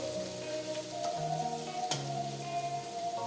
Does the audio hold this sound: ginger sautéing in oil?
yes